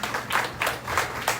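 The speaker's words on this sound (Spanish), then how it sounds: "Denle un aplauso al Señor." Church congregation clapping during a sermon, a loose rhythm of about five bursts of hand claps at close range, fairly loud and with no talk over it.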